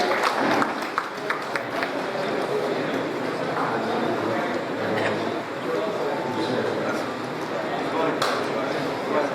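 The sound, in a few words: audience applause at teachers award ceremony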